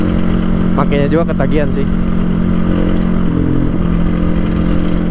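A GasGas GE 250 supermoto motorcycle, made in Pasuruan, East Java, runs with a loud, steady, close engine drone throughout, while someone talks over it.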